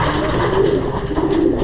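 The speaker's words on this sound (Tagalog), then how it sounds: "Eh, may young bird na tayo." Young racing pigeons cooing at an outdoor release point in Tagaytay during a first training toss, a steady, close murmur of soft overlapping coos with a continuous low rumble throughout.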